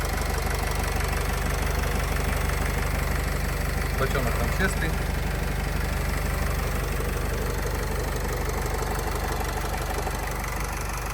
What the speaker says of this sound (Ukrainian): Моторчик, я думаю, чути одразу як працює,